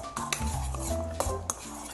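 Sliced cucumbers are tossed with dressing in a bowl, giving soft wet stirring with a few sharp clinks of utensils against the dish, close and brief.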